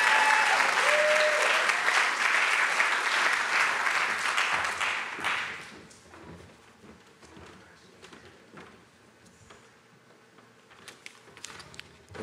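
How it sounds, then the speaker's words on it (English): Graduation audience gives a graduate a big round of loud, dense applause that fades after about five seconds into scattered claps and quieter room sounds. "Give her a big round of applause."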